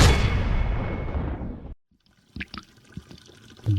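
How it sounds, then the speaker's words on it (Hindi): Water gushes steadily from a tap for under two seconds, then stops abruptly, leaving faint drips and small knocks. "जरा पानी बंद करके आ जाओ, नल से पानी टपक रहा है भाई"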